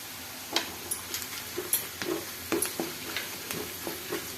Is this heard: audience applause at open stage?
no